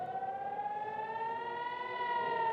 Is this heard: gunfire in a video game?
no